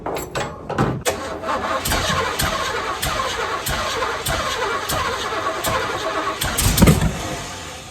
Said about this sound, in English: let's try cranking her up again